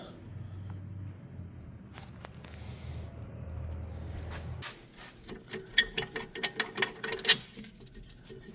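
A ratchet clicks in short quick bursts while removing brake caliper bolts on a 2015 GMC Acadia, the ratcheting near and fairly loud after a stretch of low mechanical rumble.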